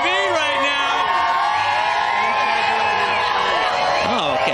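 A fiesta pre-party crowd cheers and whoops nearby in a constant loud roar, with high yells rising above it and a voice talking over the noise.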